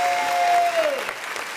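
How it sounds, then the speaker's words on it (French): Applause from an audience at an event swells briefly and then fades, with a tonal whine sliding downward over it and some faint voices mixed in. "Applaudissez pour lui, s'il vous plaît."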